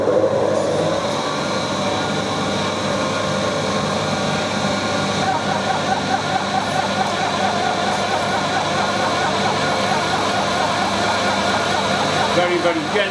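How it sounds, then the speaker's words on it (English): A milling machine with a 2mm cutter runs at its top speed of 2,500 rpm, giving a steady mechanical drone with a busy rattling texture that carries on continuously and fairly loud throughout. "We've got our 2mm milling cutter in. I've got the machine running as fast as it'll go"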